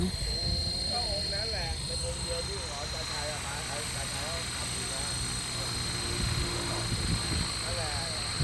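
A size 450 RC helicopter hums continuously with a steady rotor and motor whine as it flies and comes in to land in strong wind, with someone talking over it throughout.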